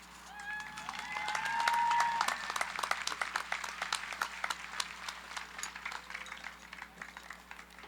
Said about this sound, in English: Let's have another round of applause for salutatorians and valedictorian speeches, please.